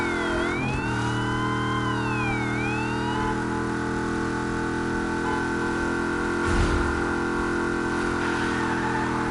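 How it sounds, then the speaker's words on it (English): Charger Hellcat police car in the video game Wreckreation, its wailing siren sweeping up and down over a steady engine drone, with a brief louder engine surge partway through and no voices. "Oh, it's a Charger Hellcat police car."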